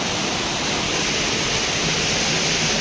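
A strong waterfall in the jungle, with water rushing hard in a dense, continuous hiss and roar that stays steady and close throughout.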